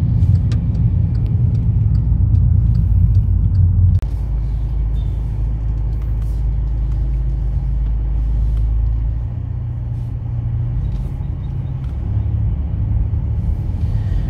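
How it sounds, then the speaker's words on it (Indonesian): A car with coilover suspension idles while its engine warms up, a steady close low rumble with no voices, dropping slightly in level partway through and then settling. "karena emang ini jadwalnya mobil gue untuk dipanasin"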